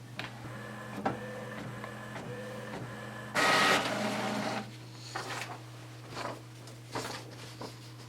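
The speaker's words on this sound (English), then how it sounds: "send the test report to the printer and print out your test report" A pressure-testing logger's small printer prints a test report with rhythmic mechanical ticks and whirs, then a louder burst of feeding and tearing noise followed by scattered clicks, all over a steady electrical hum.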